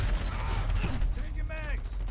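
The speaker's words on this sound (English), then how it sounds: "Changing mags." A rifle magazine swap in Call of Duty: Modern Warfare beta, a short burst of mechanical clicks and a metallic ratchet-like snap over a low background rumble of in-game ambience, brief and close.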